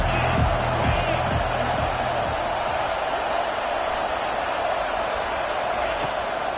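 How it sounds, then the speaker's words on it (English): A stadium crowd roars in the video game College Football 25 during a third-down play, a dense, loud, continuous wash of cheering with a few brief shouts early on. "this crowd is tearing the lid off this place"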